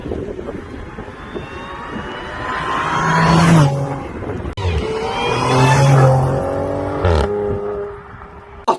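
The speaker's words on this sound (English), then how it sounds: "That supercharger whine" Supercharged car engine revving with a high whine, loud and close, two rising rev sweeps that climb and fall, then a brief drop before a final burst.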